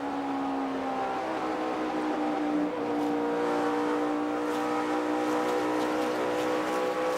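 NASCAR Sprint Cup race cars on track, a 2008 race: a sustained loud engine drone with steady harmonic tones and faint bursts of other cars, continuous throughout.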